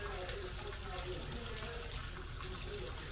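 Tap water running into a kitchen sink to soak dirty dishes, a steady close splashing flow with a voice talking over it.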